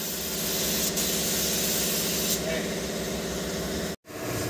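Primer being sprayed onto a fuel tanker during a repaint: a steady, loud, close hiss of spray that runs almost without a break, cuts out briefly near the end, then resumes.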